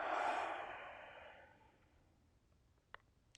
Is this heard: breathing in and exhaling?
yes